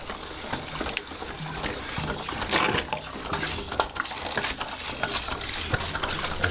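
An MSR Guardian water purifier is worked by hand outdoors, pushing water through with a steady run of splashing, gurgling pump strokes and small knocks, close and fairly loud with no talking.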